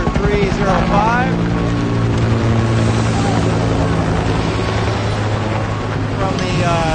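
A steady, droning rotor and engine hum of a CAL FIRE firefighting helicopter at a wildfire in Fontana, California fills the clip at close range, with voices faintly present underneath.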